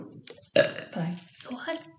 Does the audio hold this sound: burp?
yes